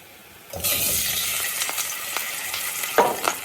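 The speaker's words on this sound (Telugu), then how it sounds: "కొద్దిసేపు ఒక 5 minutes అలా ఫ్రై చేసుకోండి" Eggs fry in a hot pan seasoned with chili powder, turmeric and salt, a steady bright sizzle that bursts in loudly after a short quiet start, with a few sharper crackles and pops near the end.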